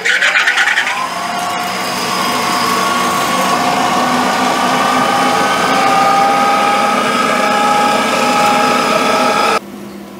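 A 1/8 inch two-flute ball end mill spinning at about 3,500 RPM while cutting brass, giving a steady loud whine with strong mechanical harmonics that holds for nearly ten seconds before cutting off abruptly.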